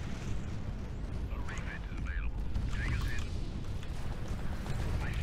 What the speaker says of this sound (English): I love Reaper missiles. The way they launch is just sexy.